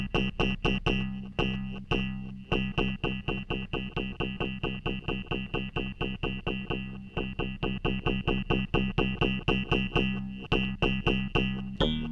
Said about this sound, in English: I think I may do a distortion on it and kind of keep it subtle.